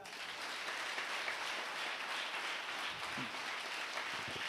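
Steady applause from a church congregation during a Sunday sermon, a broad continuous wash of clapping hands filling the room at moderate distance, with no speech over it.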